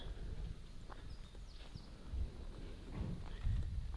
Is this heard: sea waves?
no